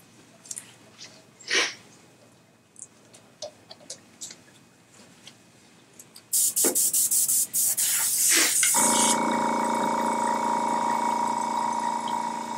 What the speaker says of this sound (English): The airbrush definitely helps it